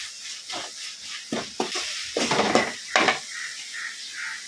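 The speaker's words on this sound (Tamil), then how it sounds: "கருவேப்பிலை சேர்த்துட்டு ஒரு கிண்டு நல்லா கிண்டி" Curry leaves stirred into frying tomato and onion for a prawn thokku, several close clanks and scrapes of a spoon against the pan over a light sizzle, with no one talking.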